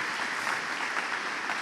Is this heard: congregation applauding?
yes